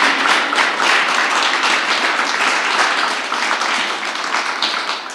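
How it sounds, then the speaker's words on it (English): An audience at an evening panel event bursts into dense, sustained applause that stays loud throughout and eases off slightly near the end. "can we give them a round of applause?"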